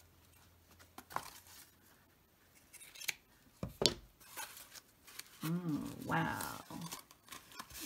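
Scissors cutting corrugated cardboard for crafting: a few sharp snips and crunchy slicing strokes up close, with crinkling handling noises, and a brief spoken exclamation partway through.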